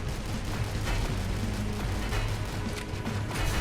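Dense, continuous gunfire rattles in a sci-fi video game as enemies shoot at a ship, a loud, unbroken wash of rapid shots and mechanical clatter with no voice over it.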